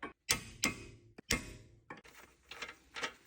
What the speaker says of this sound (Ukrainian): Ну, а тепер за допомогою молоточка відкручуємо штопорну гайку.